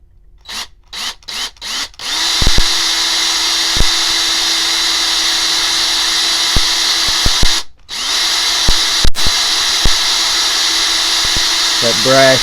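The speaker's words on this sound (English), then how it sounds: "3/32 drill in the chuck. Now we are going to just ream this out." A power drill with a 3/32 bit reams out a soft brass butane cartridge. Short trigger bursts rev up, then give way to a long steady whine that cuts out briefly and starts again, loud and close.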